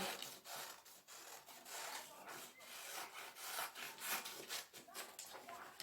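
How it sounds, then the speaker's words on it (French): An arc of a circle is being cut out with a steady, continuous rasping cutting sound, quiet and close, with small uneven strokes and no pause. "Je découpe l'arc du cercle."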